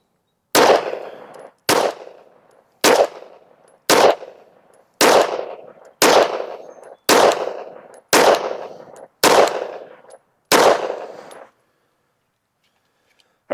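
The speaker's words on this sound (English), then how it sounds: "let's shoot a 10-shot group at the bottom left target" Ten sharp, loud pistol shots from a Sig Sauer 365 XL fired one at a time at a steady pace of roughly one per second at an outdoor range, each crack trailing off in a short echo before the next.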